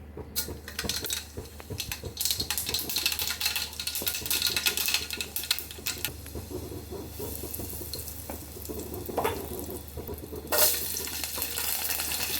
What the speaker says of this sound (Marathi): तेल तापल्यावर सर्वप्रथम मी ह्याच्यात मोहरी आणि थोडं हिंग घालणार आहे.